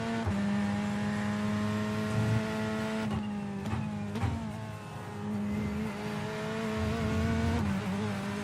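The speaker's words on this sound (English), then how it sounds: "this is the Corvette C8 GTE, which is the GT2 category" A Corvette C8 GTE, a GT2-category race car in iRacing, drones at steady high revs with a strong, buzzy engine tone, dipping and climbing through gear changes around the middle and holding loud and close throughout.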